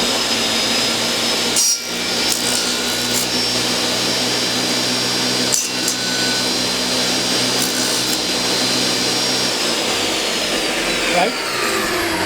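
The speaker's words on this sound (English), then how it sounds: "the blade is going to leave a little bit of imperfection, and I'm just moving it slowly forward and backwards and taking that imperfections off" A saw blade trims small imperfections off a wooden box with slow forward-and-backward strokes, making a continuous loud rasping grind with brief dips, close up.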